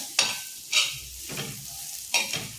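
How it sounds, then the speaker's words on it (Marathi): Pre-roasted jawla, small dried shrimp, are stir-fried in a pan for a Konkani jawla fry. A spatula scrapes in four quick bursts over a faint, steady sizzle. "असं व्यवस्थित परतून घ्यायचं आहे, कारण त्याला आपण आधी भाजून घेतलेला आहे, त्याच्यामुळे फक्त नुसता फ्राय करायचा आहे"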